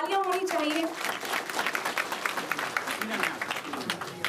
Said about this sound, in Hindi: ये तालियां होनी चाहिए